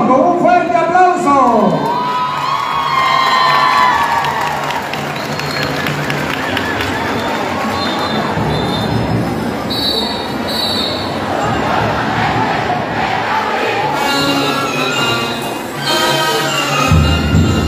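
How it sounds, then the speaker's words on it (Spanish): Crowd noise and cheering fill the street at a city's 185th anniversary celebration in Chinandega, with rhythmic bands performing, loud and sustained, with shouting voices throughout and no clear break. "Lo recibimos con un fuerte aplauso."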